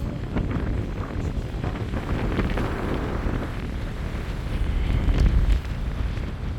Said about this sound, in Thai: ลมแรงจริง ๆ ครับ